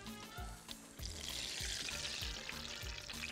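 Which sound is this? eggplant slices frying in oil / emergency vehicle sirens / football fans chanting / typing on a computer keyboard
eggplant slices frying in oil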